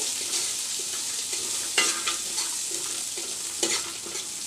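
Almonds frying lightly in oil in a pan give a soft, steady sizzle with a couple of brief stirring scrapes. The sound is quiet and close, with no voices.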